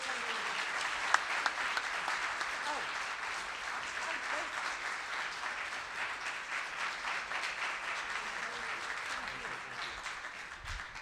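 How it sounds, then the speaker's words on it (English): A Rotary meeting audience applauds a speaker, a steady wash of many hands clapping that lasts several seconds with a faint murmur of voices underneath. "Let's give her a big round of applause."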